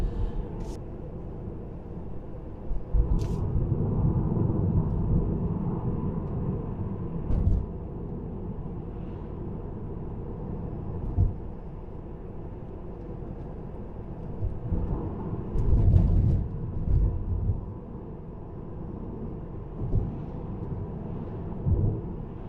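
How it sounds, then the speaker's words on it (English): Interior road noise in a 2019 Tesla Model 3 Performance on the Wakehurst Parkway, a continuous low rumble of tires and cabin hum with occasional louder thumps and swells, no speech. "just turning onto the Wakehurst Parkway now in our Tesla Model 3"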